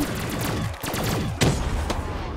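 Rapid bursts of close, loud gunfire in Black Ops 3 Zombies, with sharp repeated shots in quick clusters and a strong impact partway through, set against constant game noise.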